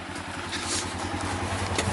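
A Honda GX690 engine driving an auger runs steadily close by, a low, even mechanical hum with a faint rhythmic clatter throughout.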